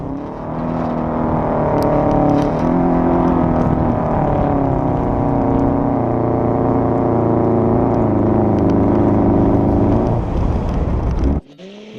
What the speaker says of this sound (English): Dude goes into a full donut and then says, you know what, we're just going to keep flooring it.